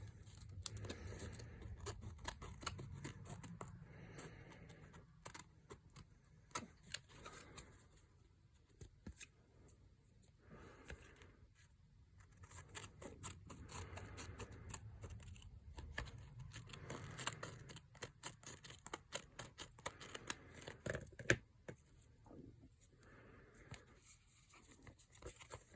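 Scissors trim paper or material during a mixed media painting session, giving quiet, rapid snipping and rustling clicks that repeat irregularly close by, with no talk.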